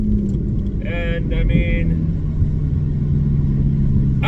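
Deep, loud exhaust drone from a straight-piped Porsche Cayman S, heard from the cabin as a steady rumbling burble, with brief voices talking over it.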